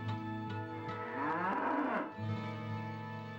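A cow moos in the PlayStation version of Diablo, one long drawn-out lowing call in the middle, set against a steady droning background tone.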